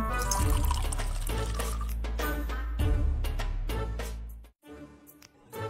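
Water mixed with oil pours in a Bangla cartoon, a steady liquid stream lasting several seconds with a tonal, music-like layer, then cutting off abruptly near the end before a brief faint return.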